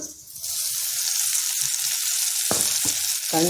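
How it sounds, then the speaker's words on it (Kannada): Ground spice paste fries in a hot pan in a home kitchen, a steady loud sizzle running throughout, with a few sharp knocks of a spoon against the pan near the end. "ಉರಿಯಲ್ಲಿ ಸ್ವಲ್ಪ ಹುರ್ಕೋಬೇಕು ಇದನ್ನು ಚೆನ್ನಾಗಿ ಘಮ್ಮನ್ನವಾಗಿ ಹುರ್ಕೊಂಡು"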